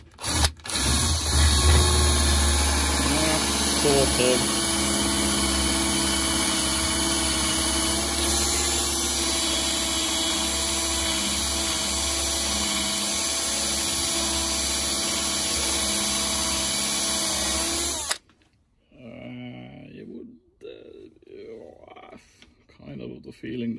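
A hand drill fitted with a Parkside bit meant for a drill press bores into wood, giving a loud continuous whirring grind for about eighteen seconds, then stops abruptly, followed by someone talking.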